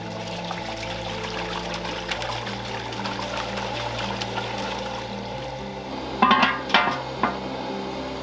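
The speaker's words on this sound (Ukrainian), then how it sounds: "І налімо у казан воду." Water pours steadily into a cauldron set over a crackling wood fire outdoors, a continuous close trickle that ends with a few sharp clunks.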